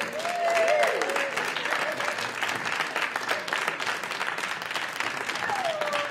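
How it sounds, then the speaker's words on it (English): Sustained round of applause from a summit audience, dense steady clapping that fills the room for several seconds, with a few brief voices cutting in over the crowd. "let's give them a round of applause"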